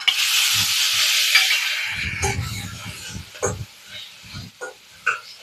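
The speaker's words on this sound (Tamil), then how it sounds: "இப்போ தக்காளி இதில் போட்டு வதக்கிடலாம்" Tomatoes go into hot oil for a brinjal gravy, setting off a loud, bright sizzle that fades after about two seconds, followed by quieter frying with a voice talking over it.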